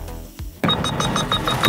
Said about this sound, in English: you will hear the beep